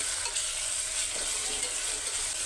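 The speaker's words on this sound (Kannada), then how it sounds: "ಮನೆಯಲ್ಲೇ ಮಾಡಿರೋ ಶುಂಠಿ ಬೆಳ್ಳುಳ್ಳಿ ಪೇಸ್ಟ್ ಹಾಕ್ತಾಯಿದ್ದೀನಿ. ಅದನ್ನು ಸ್ವಲ್ಪ ಫ್ರೈ ಮಾಡ್ಕೊಳ್ಳಿ." Homemade ginger garlic paste frying with onions for capsicum pulao, a dense, even hiss of hot oil heard up close and uninterrupted, with no voices.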